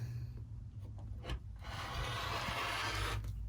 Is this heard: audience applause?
no